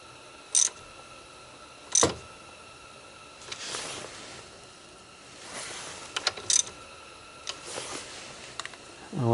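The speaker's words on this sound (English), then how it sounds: "got that down in there enough to use the ratchet" A ratchet tightens the tie rod end nut on a 2005 Honda Accord in a series of sharp clicking bursts separated by pauses, close and fairly quiet, with faint background noise.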